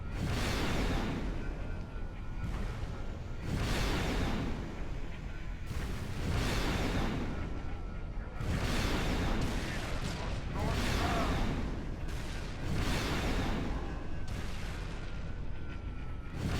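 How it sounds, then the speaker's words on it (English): Wraith tank mortar rounds from Halo 3 on the Tsavo Highway level, a series of loud, heavy booming blasts roughly every two seconds, each with a long rumbling decay, dense and continuous. "You can just sit back and mortar these brutes to death."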